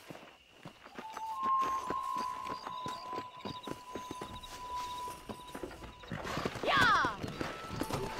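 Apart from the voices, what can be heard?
horse galloping in video game Red Dead Redemption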